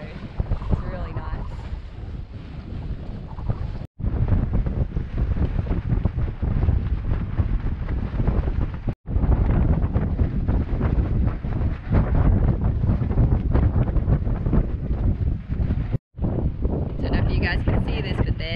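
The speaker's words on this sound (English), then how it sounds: "This is probably the best actual sailing we've had" A sailboat runs under good wind at sea with a swell, heavy wind buffeting loudly and continuously close up, with water rushing beneath, broken only by a few brief dropouts.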